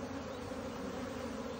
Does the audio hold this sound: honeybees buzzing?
yes